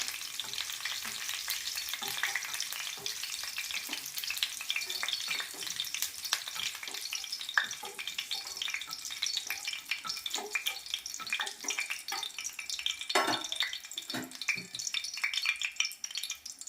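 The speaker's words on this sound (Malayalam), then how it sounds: "അതിലേക്ക് ആദ്യമേ കുറച്ച് കറിവേപ്പിലയും ചുമന്ന മുളക് മുറിച്ചത് ചേർത്ത് അതൊന്ന് ചൂടാക്കിയെടുക്കുന്നു" Curry leaves and cut dried red chillies crackle and sizzle in hot coconut oil for a squid roast, a steady dense frying hiss with scattered sharp pops and occasional stirring scrapes throughout, close and continuous with no talk.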